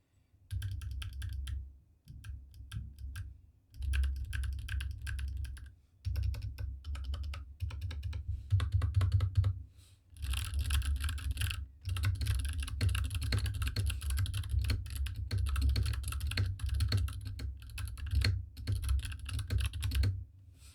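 Fast typing on a mechanical keyboard with modded clicky Kailh Box Royal switches, sharp clicky keystrokes in bursts separated by short pauses, close and fairly loud.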